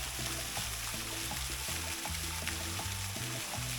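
Water splashes steadily in a park fountain beside a castle, a dense hissing wash that runs continuously and evenly at moderate distance, with a low tonal drone underneath.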